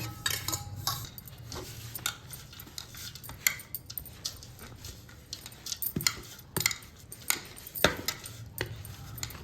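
A spoon stirs sesame powder and chickpea powder together in a metal vessel while laddus are being made, with a steady run of scraping clinks and taps, close and moderately loud, unbroken for several seconds.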